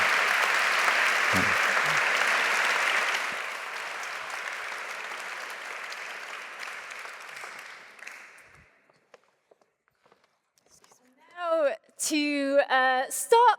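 A large audience claps at the Körber Prize award ceremony in Hamburg City Hall, the applause dense at first, then thinning and dying away into near silence before a voice begins speaking.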